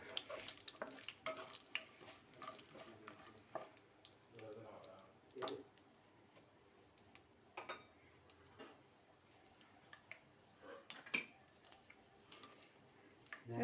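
Curry leaves and cashews frying in hot oil, with soft crackling sizzles and sharp pops at intervals, a quiet kitchen background beneath.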